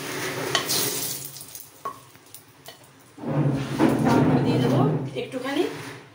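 Fried soybeans and onions for soyabean rice sizzle in a pan with stirring and clinks of a utensil, the frying swelling louder midway while someone talks over it.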